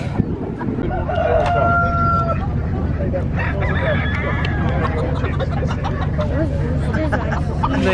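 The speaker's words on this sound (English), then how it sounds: "They are roosters." Roosters crow at a livestock swap, a couple of loud calls rising over a steady hubbub of crowd chatter and clucking fowl.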